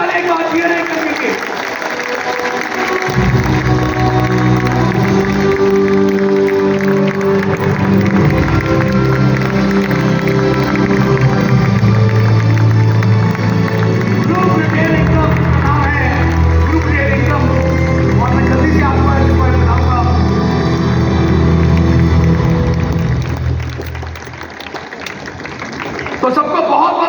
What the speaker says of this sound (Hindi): तालियां बंद नहीं होनी चाहिए, जोरदार तालियां एक बार जीआरआई करने के।